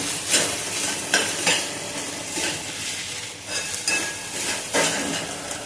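A spicy egg bhurji masala base fries in a pan until reddish, with a continuous close sizzle and regular bursts of a spatula scraping and stirring, moderately loud and free of talk.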